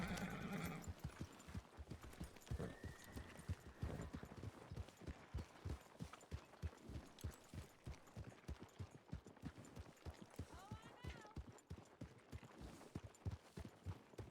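Video-game white horse Crescendo trotting with rapid, even hoofbeats throughout, and a whinny rising partway through, close and fairly loud with no voices.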